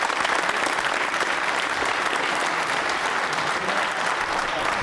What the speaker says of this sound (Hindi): जोरदार तालियां बजाइए साहब